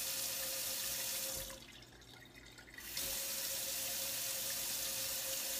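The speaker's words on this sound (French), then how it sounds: "quand l'eau va revenir. Vous allez avoir de l'air qui va ressortir progressivement." Water from a tap rushes and sputters with trapped air after the supply returns. The steady flow breaks off for over a second, then gushes back at full strength.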